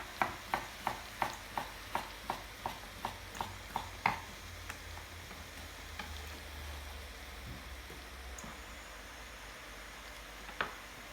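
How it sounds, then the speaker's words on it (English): Potatoes sweating in a pan, starting with a quick run of about a dozen evenly spaced taps or stirring knocks, then easing into a soft, steady sizzle with one more knock near the end. "Potatoes go in. And we sweat them down for just a couple of minutes."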